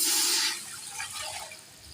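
Water is poured into a pressure cooker while making beef karahi, a brief splashing gush that fades into a softer trickle, close and alone.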